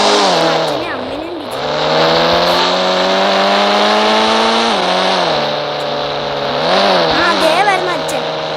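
A car engine revs loud and close, its pitch rising and falling in several sustained sweeps over steady road noise.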